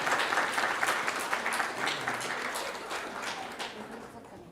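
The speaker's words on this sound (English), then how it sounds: "please give them a hearty round of applause" An audience gives a hearty round of applause for grade 2 and 3 learners at a primary school speech contest, a dense, sustained clapping that starts strong and slowly tapers off.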